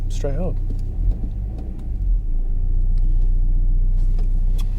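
A Saab 9-3 engine runs steadily with a low, even rumble, starting with a brief rising whine and continuing loud and close throughout.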